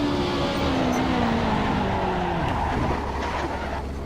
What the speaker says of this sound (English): And now I crashed my car.